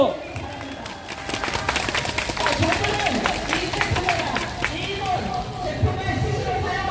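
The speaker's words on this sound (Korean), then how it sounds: "성명서 낭독할 두 분을 힘찬 박수로 다시 한번 모시겠습니다" A crowd at the 1551st Wednesday rally on the Japanese military sexual slavery issue claps, a spread of scattered and sustained applause with a voice speaking over it.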